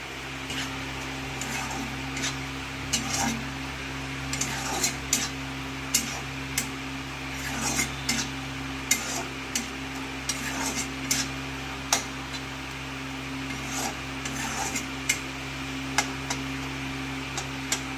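Mustard-poppy paste stirred in a pan with ridge gourd, a utensil tapping the pan in a steady, fairly regular rhythm over a low hum, close and moderately loud.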